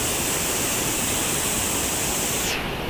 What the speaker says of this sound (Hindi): आपको दिखा दूँ क्या ज़बरदस्त पानी फ्लो आ रहा है